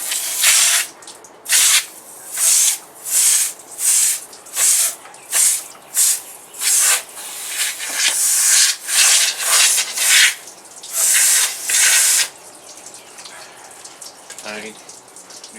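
A spray nozzle hisses water in about a dozen short, even bursts, close and loud, with brief pauses between each squirt, while cleaning a car's A/C evaporator.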